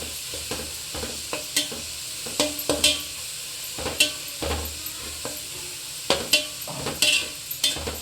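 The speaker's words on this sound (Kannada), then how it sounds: "ಈರುಳ್ಳಿ ಫ್ರೈ ಆಗಲಿ." Onions frying in a pan for egg fried rice, a continuous close sizzle broken by frequent scraping stirs of a spatula against the pan, no voices.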